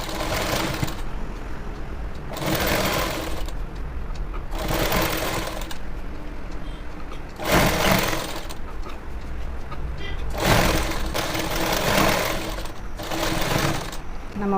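A tailoring sewing machine stitches gathered pleats into pants, running in repeated close bursts of rapid mechanical chatter separated by short pauses, with a voice heard at times between the runs.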